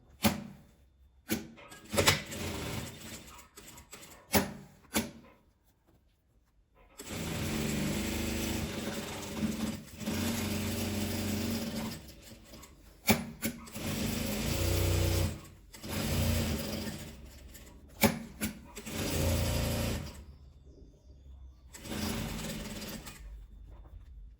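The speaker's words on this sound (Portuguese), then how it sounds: "vou passar a costura em volta dela toda" A sewing machine stitches around the edge of a fabric bag in long steady runs of rapid mechanical whirring, broken by pauses and short bursts, with light handling clicks between passes, close up and without talk.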